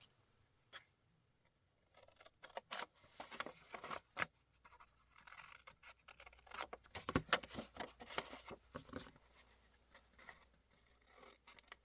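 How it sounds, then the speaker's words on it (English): Scissors snipping two small paper squares from the top and bottom flaps of a handmade junk journal: quiet, close, irregular crisp snips and paper rustles with short pauses between them. "I'm going to take out these two little squares just with my scissors."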